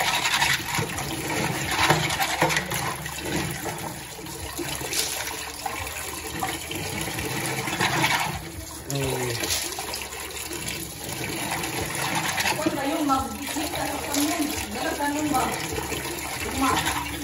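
Tuyom (sea urchin) shells being washed in murky brown water, with steady close splashing and sloshing continuing throughout, mixed with occasional voices.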